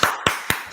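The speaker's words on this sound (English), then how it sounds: "Clap it up for that." Four sharp, evenly spaced claps in under a second, close and crisp, like one person clapping rather than a full audience.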